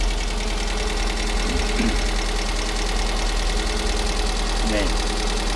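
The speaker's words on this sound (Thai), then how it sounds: "เสียงเครื่องยนต์ เดี๋ยวเปิดให้ท่านดูก่อน" A used car engine idles nearby with a steady, continuous rumble; a voice briefly murmurs faintly underneath.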